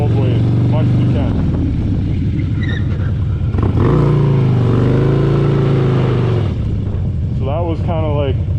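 Motorcycle engine revving hard during a donut, the pitch rising and falling in loud sustained surges with tire noise, heard close throughout alongside someone talking over it.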